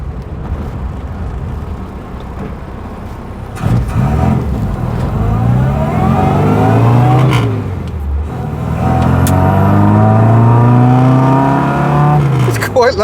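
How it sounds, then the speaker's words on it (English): Tuned Austin A35 van engine revving hard while driving, rising and falling pitch through gear changes, loud and close inside the rattling metal cabin. "this is the first time I've driven a pepped up A35."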